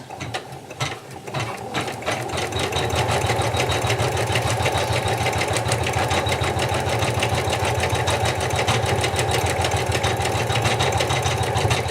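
An embroidery sewing machine stitches antler details on a felt applique, running at a steady, rapid mechanical chatter that stays loud and continuous after a brief start.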